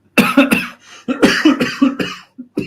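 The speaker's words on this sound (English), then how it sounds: "I have got a right tickly chesty cough." A close, harsh chesty cough comes in repeated bursts, several rough hacks in quick succession with short pauses between fits.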